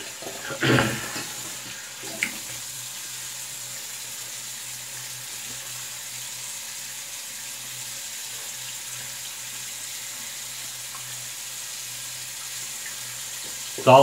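Cold water runs from a tap during a shave, a steady, even hiss that carries on for the whole stretch, with a couple of brief splashes near the start and end.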